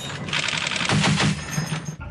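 Rapid heavy machine gun bursts from commando live-fire training in sub-zero cold, a dense rattling volley of shots lasting about two seconds, loud and close with no talk.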